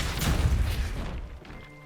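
A Depulso force spell cast in Hogwarts Legacy, a deep booming thump that swells for about a second and then fades into a quieter game ambience.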